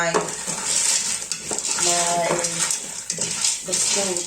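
Popcorn kernels stirred in a pot, with steady scraping and rattling of the utensil against metal over a background hiss, while a person talks intermittently.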